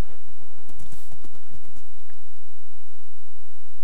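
Horse hooves clip-clopping in Minecraft, a quick run of loud, close hoof clops in the first two seconds that thins to softer, scattered steps for the rest.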